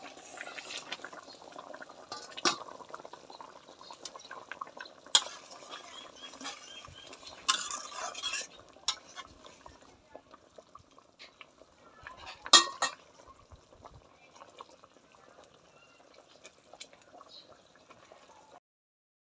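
Pabda fish curry simmers in a pot with soft liquid bubbling, broken by occasional clinks of a utensil against the pan, all fairly quiet and without speech.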